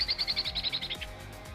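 Short bird chirp sound effect from the game Bouncin' Billy: a quick run of about ten bright, evenly spaced tweets over roughly a second, clear and alone, with a faint low background underneath.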